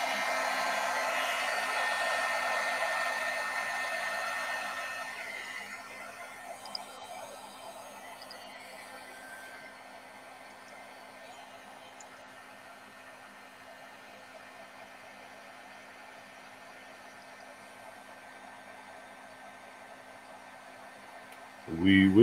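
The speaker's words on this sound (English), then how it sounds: "Now let's melt this puff embossing powder." Heat tool blowing hot air to melt puff embossing powder for a craft Christmas card, a steady loud whoosh that fades after a few seconds into a quieter hum.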